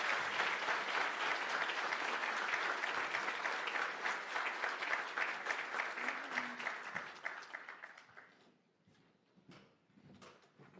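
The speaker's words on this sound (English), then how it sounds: "embrace her with aroha, with a sound round of applause" Audience applause welcoming Prime Minister Jacinda Ardern at a counterterror hui in Aotearoa, a loud, dense crowd clapping that holds steady for about eight seconds, then thins and fades to a few scattered claps.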